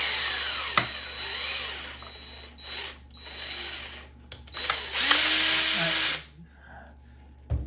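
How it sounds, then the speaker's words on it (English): A power drill bores into a jammed 8-track tape cartridge, with several close, whining bursts that rise and fall as the bit bites into the plastic shell, separated by short pauses and handling clatter. "Now you can never drill on this one right here because it is thinner and smaller"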